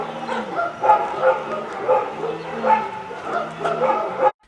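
A police search dog barks and yips while hunting for a hidden dummy explosive: repeated short, fairly loud barks and whimpers in an uneven rhythm, with voices talking alongside, ending abruptly.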